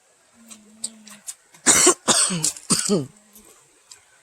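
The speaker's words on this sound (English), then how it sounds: "y'all know I'm coughing" A few harsh coughs in quick succession, close and loud, after a quiet stretch with faint throat sounds.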